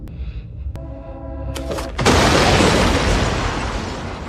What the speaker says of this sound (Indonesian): begitu kotak tersebut dibuka, seketika terjadi ledakan besar